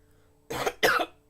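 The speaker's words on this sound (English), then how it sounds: "Every time I talk too long, I get a cough." Two or three short, harsh coughs from one person, close and fairly loud, spaced by brief pauses, with no talk around them.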